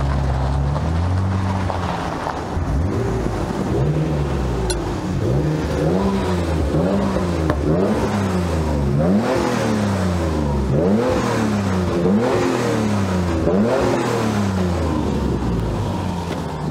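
A car fitted with McLaren turbos revs repeatedly, the engine rising and falling in a steady rhythm of throttle blips, loud and near with some wind noise, no talk.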